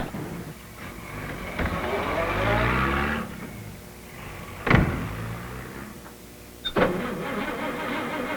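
A 1940 car starts up and pulls away with a rising engine note that fades, then a couple of sharp door-like knocks follow, with a voice briefly speaking over it.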